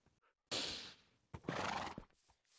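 A Minecraft horse whinnies twice in quick succession, loud and close, with brief quiet gaps around the calls.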